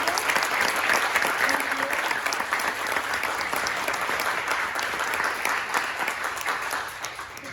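Steady, dense applause from a congressional candidate forum audience, sustained and even throughout at a moderate distance, with a faint murmur of voices underneath.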